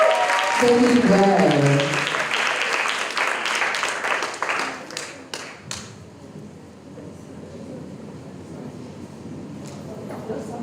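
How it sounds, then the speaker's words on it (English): Clapping from the audience at a college debate finals, starting under a voice and crowd noise, thinning to a handful of scattered, sharp individual claps that trail off into quiet room tone. "Please clap her."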